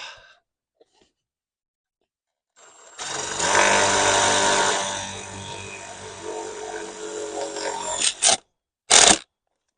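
A power drill drives Farmer's Friend tek self-drilling screws into greenhouse high tunnel end wall framing: after silence, a loud buzzing run eases into steadier whirring, then two short sharp bursts.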